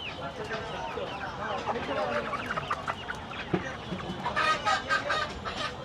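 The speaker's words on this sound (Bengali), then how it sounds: "সবই সোনালী মুরগি।" Sonali chickens cluck and squawk repeatedly at a busy poultry market in Uttara Bazar, the birds fairly close and bursting louder near the end while people talk nearby.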